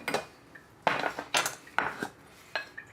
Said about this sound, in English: I'm going to use an actual tablespoon